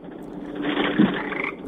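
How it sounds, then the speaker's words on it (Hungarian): A frog croak sound effect played over a morning radio show, a steady buzzing croak lasting under two seconds, moderately loud and alone with no talk. "Ja, béka hang."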